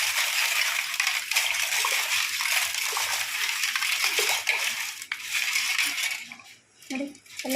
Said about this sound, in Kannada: ಚೆನ್ನಾಗಿರೋ ನೀರು ಹಾಕ್ಬಿಟ್ಟು ಅದನ್ನೆಲ್ಲ ಚೆನ್ನಾಗಿ ವಾಶ್ ಮಾಡ್ಕೊಳ್ಳೋಣ